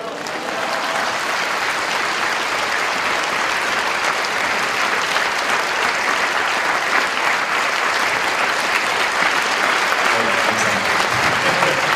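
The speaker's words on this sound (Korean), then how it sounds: "이렇게 박수 뜨겁게 치시고 너무 감사합니다." A church congregation at a Korean Sunday worship service applauds warmly to welcome a visiting pastor, a dense, loud, sustained wash of many hands clapping that holds steady throughout with no gaps.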